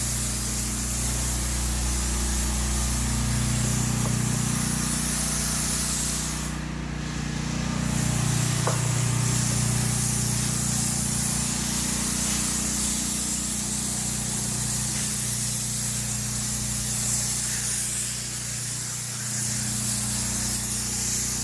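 Continuous hissing spray of water wetting down a surface at a home, loosening dirt, steady and close for over twenty seconds with a low pump-like hum underneath and a brief dip midway.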